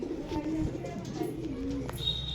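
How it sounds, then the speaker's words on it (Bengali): Pigeons in a pigeon farm coo softly over a low, steady background, giving a few rounded calls with the murmur of other birds around them. "কৈতরের ফার্মে ঢুকছে, এই যে ফার্মে দেখেন কত কৈতর"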